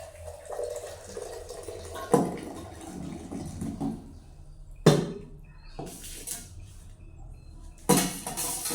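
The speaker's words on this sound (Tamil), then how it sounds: "உப்புக்குள்ளே தண்ணியை நாங்கள் விடுவோம் சுடு தண்ணியை" Hot water splashes into salt in a cooking pot, alongside clinks of utensils and dishes. A few sharp knocks stand out over a continuous watery background, close by.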